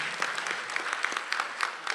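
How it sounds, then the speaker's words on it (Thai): Seminar audience clapping to thank the speakers at a crowdfunding innovation event, a dense, moderately loud patter of many hands with sharper individual claps standing out, no talking. "อยากจะขอเสียงปรบมือนะคะเพื่อขอบพระคุณแก่วิทยากรทุกท่านอีกครั้งค่ะ"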